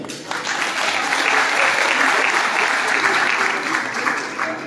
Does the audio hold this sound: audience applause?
yes